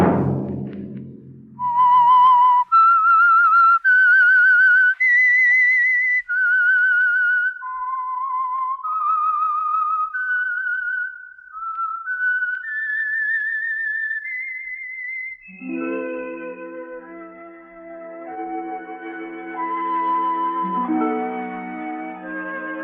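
A clear, solo whistled melody with wavering, gliding notes, the signature tune of the radio drama The Whistler, then a band plays the tune on full orchestral instruments.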